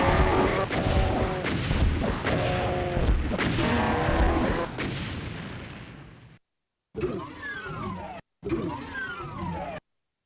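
Video game gunfire from shooting a line of enemies in Psych, with a loud run of rapid, booming shots and crashes, then short bursts broken by brief silences.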